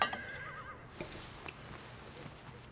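A horse neighs faintly in a quiet rural setting, a brief whinny with a few soft thumps and knocks, distant and low in level.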